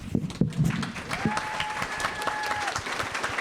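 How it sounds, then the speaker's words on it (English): An audience at a U.S. House candidate forum breaks into steady, sustained applause from many hands, with a faint tonal whine and some voices mixed in. "Now you can applaud."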